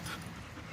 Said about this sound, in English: remember when Buddy was a puppy? Oh, goodness, buddy. I know, I'm sorry you're on the leash